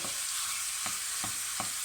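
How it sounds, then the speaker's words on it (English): Steady crackling sizzle of sausage balls frying in oil, with a few soft scraping stirs breaking through the hiss. "over a medium-high heat, and we're going to fry these off"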